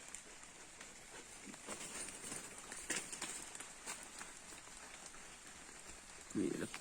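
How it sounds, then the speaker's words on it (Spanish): Rain falls on leaves in a natural outdoor setting, a soft, steady pattering hiss with scattered sharper drops, fairly faint and continuous, with a brief low thump near the end. "Mire el agua como mueve las hojas. Mire. Mire. Mire cómo llueve."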